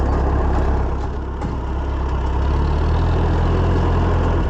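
A Ferguson TO30 tractor engine idles close by, a loud steady low rumble with even firing pulses that stays constant throughout, with no talking.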